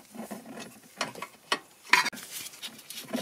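A ratchet wrench working loose the 17 mm nuts on the front wheel hub of a 2004 Toyota Avensis during a wheel bearing replacement, with quiet irregular clicking and metallic ratcheting that comes and goes, close by and alone.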